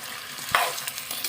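Chicken and liver being stirred in a frying pan for a Tamil chicken kulambu, a soft scrape over a steady faint sizzle, with one brief louder stir partway through; no talking.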